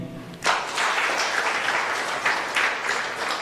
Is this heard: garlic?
no